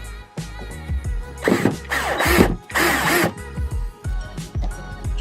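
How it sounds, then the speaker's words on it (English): A power drill with a Phillips bit drives screws into a plastic front lip on a Genesis Coupe bumper, giving two loud whirring bursts of a second or so each, separated by short pauses and quieter handling clatter. "Then we're going to drill this in."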